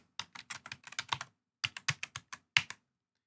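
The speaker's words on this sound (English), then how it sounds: "then I'll type in the password for it" Someone types a Wi-Fi password on a computer keyboard: two quick runs of crisp keystrokes, close and quiet, separated by a short pause, with no voices.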